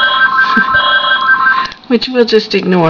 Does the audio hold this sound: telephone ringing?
yes